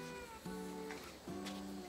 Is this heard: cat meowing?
yes